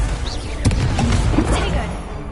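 Confringo explosive spell cast during combat in the video game Hogwarts Legacy, a dull booming blast in a dense, busy mix of battle effects and game audio.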